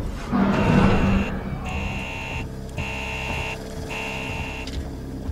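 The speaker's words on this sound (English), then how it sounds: "Come on, I don't care about the alarm." A repeating electronic alarm tone blares in Alien: Isolation, sounding in long steady bursts broken by short gaps, loud over low game rumble, with a brief voice near the start.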